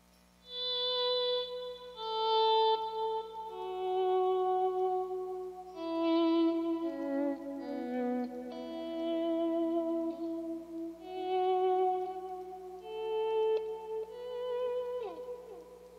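Clean electric guitar notes swell in softly via a volume pedal and ring out, trailing into repeating quarter-note delay echoes and a wide wash of reverb, forming a slow, ambient melody.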